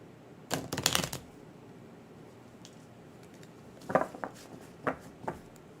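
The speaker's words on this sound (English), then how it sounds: "These don't shuffle all that well" A deck of flower cards being shuffled, a quick burst of riffling flutter followed by a few softer separate card slaps and shuffles, close and quiet with no talking.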